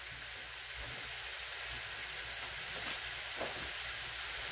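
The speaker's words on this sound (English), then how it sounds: "throw the mushrooms and onions in there with a little bit of butter. Get those sauteed till the onions are like translucent." Mushrooms and onions sautéing in butter give off a steady, even sizzle close by, a continuous hiss with no talk over it.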